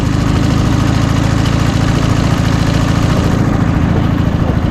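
A Dnepr MT11 motorcycle with a sidecar, in second gear on a muddy forest track, drones loud and close with a steady, rough low engine throb that holds evenly throughout, with no speech.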